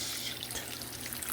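Chicken broth is poured into a gravy pan, giving a soft, steady liquid splash and trickle that runs continuously at low level with no talking.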